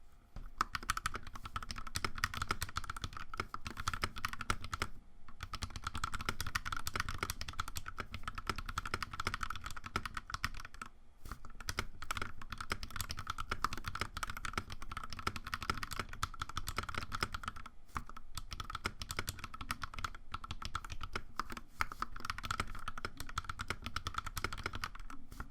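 Continuous fast typing on a modded RK61 budget mechanical keyboard fitted with Durock stabilizers, dense close-up keystroke clacks running steadily for about twenty-five seconds with only brief pauses and no talk.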